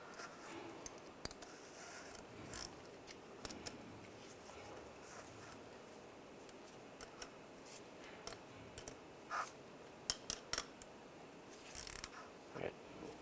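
A socket and nut are turned on a threaded setup to press a bushing into a 1999-2005 Volkswagen Jetta alternator, giving faint, scattered metallic clicks and ratchet ticks close by in a quiet room.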